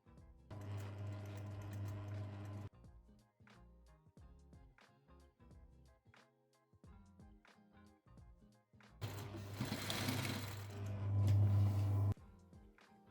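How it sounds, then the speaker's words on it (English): A sewing machine stitches a pocket onto a men's shirt being upcycled, running in two steady whirring bursts, a shorter one near the start and a louder, longer run near the end, with quieter mechanical clicks between. "I tried my best to sew along the existing line."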